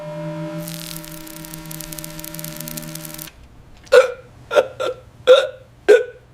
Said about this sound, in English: A stroke here can irritate the vagus nerve, triggering relentless hiccups.